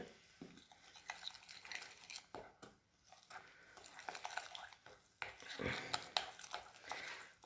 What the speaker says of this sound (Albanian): Sheqer qesim të lugë sheqer edhe ja bëjnë një përzierje.